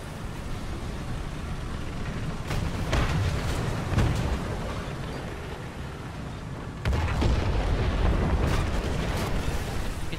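A tank cannon firing in War Thunder, heavy booming blasts over a constant engine rumble, with a sharp loud shot partway through followed by lingering roar, and no talking.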